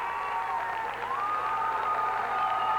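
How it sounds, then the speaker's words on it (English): An East Meadow crowd at a high school county wrestling final cheers and applauds a champion, a sustained roar of clapping and voices with some tonal whistling or shouting on top, building slightly toward the end. "You hear the East Meadow crowd coming to their feet."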